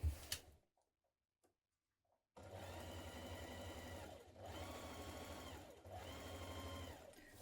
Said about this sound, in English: We're stitching a couple of millimetres away from the seam